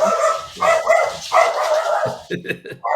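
A dog barks indoors, likely at someone at the door during a podcast recording, with a run of loud close barks and yips mixed with people talking.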